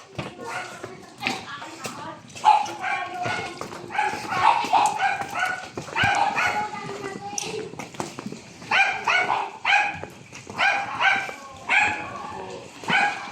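A dog barks in short bursts amid lively chatter and children's voices, with the barks close and fairly loud over the talk.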